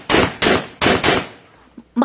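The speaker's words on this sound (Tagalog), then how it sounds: "nagpaputok ng baril sa ere" Gunshots fired into the air at night in Arayat, Pampanga: four loud, sharp reports in quick pairs, then a decaying echo and a faint trailing clank.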